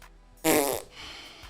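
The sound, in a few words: fart noise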